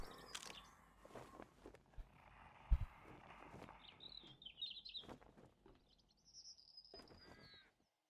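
Faint bird calls in the video game 7 Days To Die, a crow among them: a few thin chirps and drawn-out calls drift over a quiet, rustling outdoor background.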